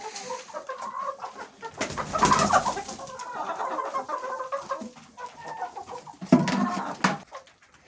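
Hens feed in their new coop after being moved out of cages, giving close, overlapping clucks and short bursts of louder squawking over steady farmyard background, with no voices.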